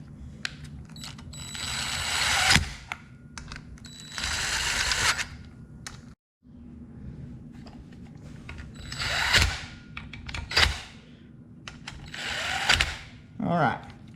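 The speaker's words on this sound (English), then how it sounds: "I'm gonna run them down with the driver and just get them lightly snug" Power driver running down bolts on an Alexander Reynolds ARCO mini-bike being restored, several short whirring bursts with pauses between them, close and fairly loud over a workshop background.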